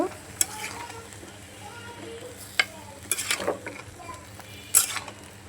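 Bottle gourd stirred in oil in a pan, a faint low sizzle under a few sharp metallic scrapes and clinks of a utensil against the pan, scattered and close.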